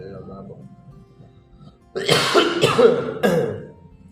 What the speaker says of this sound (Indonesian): Saya batuk ini bukan COVID karena kebanyakan ngerokok